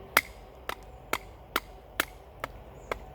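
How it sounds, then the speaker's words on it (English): A ZT 0200 folding knife batoned through a piece of wood, giving seven sharp, evenly spaced wooden knocks about half a second apart, close and clear over a quiet background. "we can baton just piece of wood like this one"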